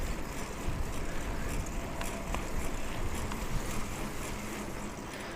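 Wind rushing past a cyclist riding outdoors, a constant loud roar of buffeting noise across the microphone with no breaks and no voices.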